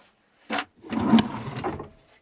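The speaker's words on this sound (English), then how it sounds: "This is the utensil drawer and lighters for the propane." A utensil drawer in a DIY Sprinter camper van opening and closing: a short wooden knock followed by a longer sliding rumble with a rattle of contents, close and moderately loud, with no talking.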